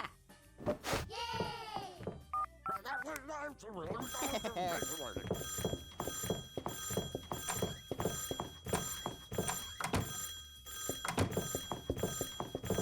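Telephone ringing in the video game Neighbours from Hell, a repeated electronic ring running through the scene amid game sound effects, with someone talking over it.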